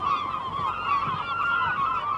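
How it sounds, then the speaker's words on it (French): Seagulls call above a Scottish lobster-fishing boat, a continuous stream of overlapping wavering cries heard close and fairly loud. "Que font ces mouettes au-dessus du bateau"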